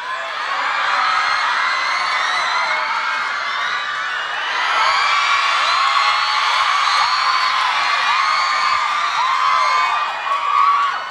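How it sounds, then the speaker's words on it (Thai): A concert crowd at a Thai singing-competition mini concert cheers, whoops and screams continuously, a loud, dense wall of voices swelling slightly midway and holding for about eleven seconds with no one speaking. "มีพวกคุณนะครับมาตะโกนเรียกชื่อผมนะครับ"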